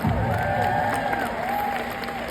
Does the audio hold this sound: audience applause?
yes